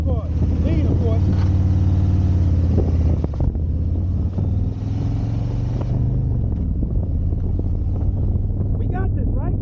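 A 2021 Harley-Davidson Road Glide Limited motorcycle rumbles along a road under heavy wind buffeting on the microphone, a steady low engine drone that shifts pitch as it slows.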